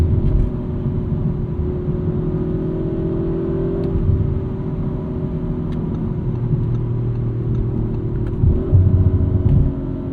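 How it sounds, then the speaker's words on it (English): A 2023 Audi RS5 Competition with a twin-turbo V6 drives in manual mode on cold snow tires, its steady engine rumble rising and dipping through quick gear changes, close and continuous with no talk. "And it just fires off gear changes."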